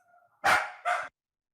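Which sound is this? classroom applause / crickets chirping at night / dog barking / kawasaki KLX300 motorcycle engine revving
dog barking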